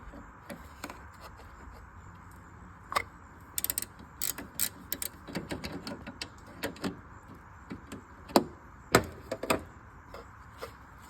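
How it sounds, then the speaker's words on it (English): Ratcheting wrench with a swivel head worked on a 1999-2006 Chevy Silverado 1500 AC condenser: irregular bursts of quick metallic clicks and pawl ticks, close and fairly clear, growing busier partway through. "I'm going to use my ratcheting wrench that has a little swivel on it so I can get around the corner."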